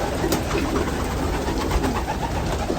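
Breeding pigeons in a loft, many sitting on eggs, coo in a continuous murmur over a noisy, hissy background, fairly loud and close, with no speech.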